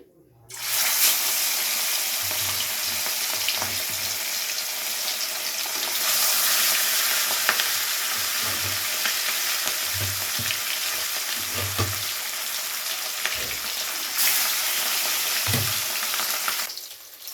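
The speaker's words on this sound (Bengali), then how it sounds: "তো প্রথমেই মাছগুলোকে ভেজে নেব।" Katla fish pieces fry in mustard oil in a hot kadai, giving a loud, continuous close sizzle that holds steady throughout, with occasional soft low thumps as the pieces shift.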